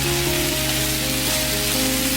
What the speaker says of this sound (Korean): 그리고 중강불에서 약 30초 정도 볶아주세요.